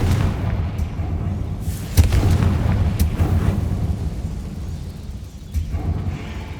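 Confringo fire-spell blasts in Hogwarts Legacy land as deep booms, with sharp hits near the two- and three-second marks, over a continuous loud rumbling game soundscape.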